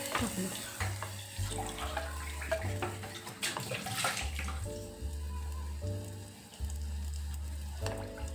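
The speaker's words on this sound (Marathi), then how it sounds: "पाणी टाकलं." Water is poured into a sizzling pan of green mung bean curry, making a close gushing splash over the frying hiss, followed by stirring.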